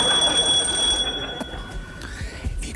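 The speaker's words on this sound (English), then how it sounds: "Josie and Jimmy, starting on the buzzer or bell" Game show buzzer or bell sounding on a British improv comedy panel show: a loud, sustained bright ringing tone that cuts off about a second in, followed by studio room noise with no talk.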